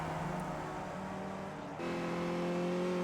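Race cars in a community sim racing game, engines droning steadily as cars pass, with a shift in engine pitch partway through as another car comes by; no talking.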